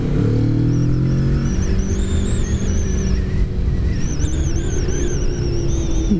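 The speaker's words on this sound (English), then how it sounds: "Damn, his bike sounds nice. It's stock, but he doesn't have the muffler" Kawasaki Vulcan S motorcycle, stock but with the muffler removed, running loud and steady with a deep continuous engine rumble throughout, no talk over it.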